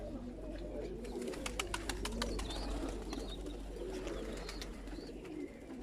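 Pigeons coo softly outdoors, the sound faint against a low background hum, with a few light chirps mixed in.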